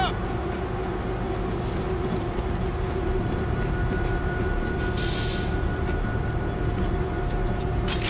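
A train rumbles along steadily in a zombie shooter game set in New York, a continuous low mechanical drone with a faint hum, loud and unbroken, with a brief hiss partway through.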